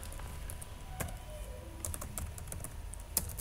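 Typing on a computer keyboard in the Borland Pascal editor, soft irregular key clicks scattered across a few seconds, quiet and close, with no speech.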